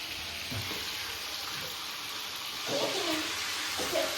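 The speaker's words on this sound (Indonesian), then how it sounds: "Jo, iya goreng kabeh wis." Food frying in a pan in a home kitchen, a steady close sizzle and crackle with a few brief clatters rising over it.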